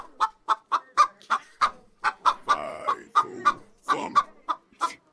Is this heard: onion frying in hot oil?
no